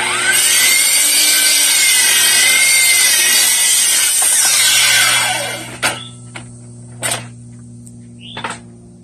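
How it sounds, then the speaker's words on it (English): A power saw cuts through a treated decking board, a loud whining buzz running for about five seconds before spinning down, followed by several sharp knocks and clunks of wood. "I'll cut my first clear tread right here, just like that."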